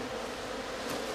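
Honeybees buzz around a set of about twelve beehives, a steady, dense drone of many insects that holds evenly for the whole moment with no voices.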